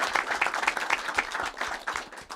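Audience applauding Walid at a live comedy-style event, a dense burst of fairly close hand claps running steadily through the whole stretch.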